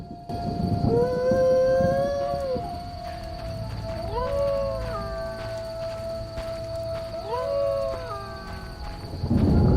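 A seemingly infected dog in The Witcher video game lets out three long, wavering howls, close and loud, separated by short pauses, over a steady tonal hum and low ambient game rumble.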